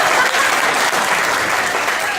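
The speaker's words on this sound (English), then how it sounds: "Guys, give Rana and Josh a big round of applause." Loud, dense applause from a live audience at a magic show fills the space continuously, many hands clapping at once with no pause.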